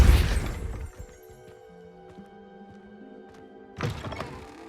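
A Depulso spell is cast in Hogwarts Legacy: a loud, close burst of thumping force at the start, then a quiet stretch and a second sharp whooshing impact near the end.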